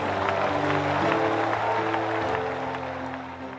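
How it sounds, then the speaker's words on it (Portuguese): A church congregation applauds, a dense, steady wash of clapping from a large crowd that slowly fades near the end. "Quem pode aplaudir a Jesus, faça."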